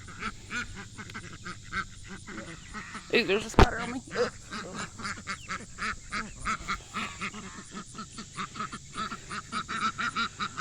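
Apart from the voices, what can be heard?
ducks quacking on a farm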